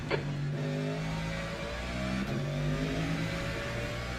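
In the video game Le Mans Ultimate, a race car engine drones and revs at a steady, fairly loud pitch, with gear-change shifts partway through as a faster car approaches.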